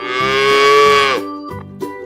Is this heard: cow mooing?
yes